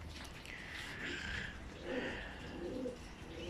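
Pigeons coo softly in a large loft, several low repeated calls overlapping against a steady background hiss, moderately close.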